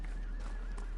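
A horse neighs and its hooves beat in a gallop in the video game Dragon Age: Inquisition, a brief close whinny over a steady low rumble of hoof movement.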